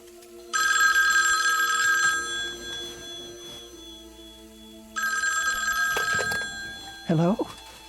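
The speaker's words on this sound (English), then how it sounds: "Was that the phone?" A telephone bell rings in two loud bursts of about a second and a half each, separated by a quiet pause, followed by a short burst of voice at the end.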